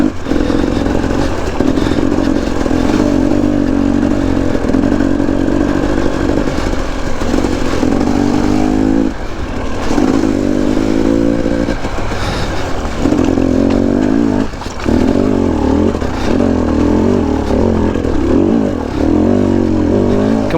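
A KTM 250 dirt bike engine revs and drops repeatedly as it rides along a muddy, steep, rocky trail, with loud, close, surging bursts of throttle and clattering between them.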